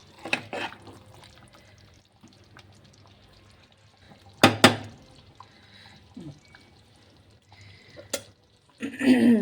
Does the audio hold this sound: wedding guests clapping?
no